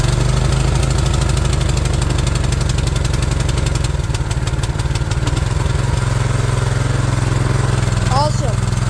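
A Predator 212 engine on a mini bike at full throttle fires up and runs steadily with a loud, close, continuous rumble and rattle, and a voice briefly speaks near the end.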